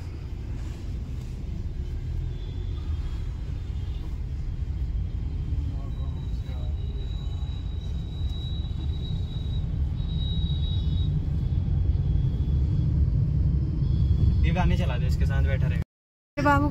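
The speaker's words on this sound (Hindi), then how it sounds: "अभी ट्रैफिक बहुत ज्यादा हो रखा है, ये देखो।" Heavy road traffic heard from inside a car, a steady low engine and road rumble that swells slightly later on, with a faint horn-like tone and a brief cutout near the end.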